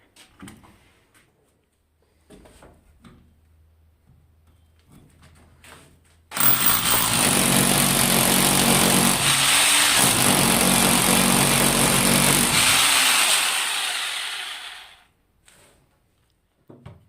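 A power drill bores a hole in a house wall for an electrical box during home wiring work. After quiet, sporadic handling noise, a loud, steady grinding roar runs for about eight seconds, then stops.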